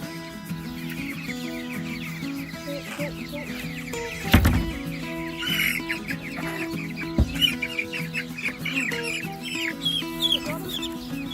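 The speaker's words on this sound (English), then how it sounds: "And now the kids can move the chickens right into there." Chickens being moved by hand into a grass-floored chicken tractor cluck and squawk repeatedly at close range, with a sharp thump partway through and scattered bird calls continuing throughout.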